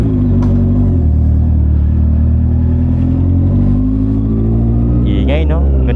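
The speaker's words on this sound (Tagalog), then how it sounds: "Ito ang Honda CBR 650R. Napaka-pogi no, napakaganda rin ng tunog niya" A Honda CBR650R motorcycle, only 2,000 km on the odometer, idles and warms up close by with a steady, full low rumble, briefly rising as the throttle is blipped near the end, with a voice talking over it.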